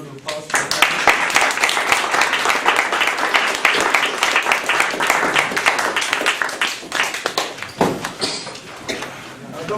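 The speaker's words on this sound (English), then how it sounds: "let's give a round of applause for that." Audience clapping after a panel discussion, a dense, loud round of applause that runs steadily for about ten seconds before thinning toward the end.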